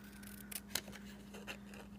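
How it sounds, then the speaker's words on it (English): Paper snips make a few quiet, crisp cutting snips through paper, spaced irregularly over a steady low hum. "we're just going to use our paper snips and cut them out"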